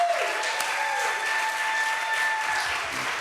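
Sustained applause from a crowd at an outdoor political rally for clean money and democracy, a dense steady wash of clapping filling the whole stretch with a faint tonal whistle running beneath.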